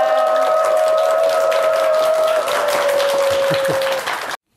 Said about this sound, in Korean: 공문선 소통 전문가께 감사의 박수 부탁드리겠습니다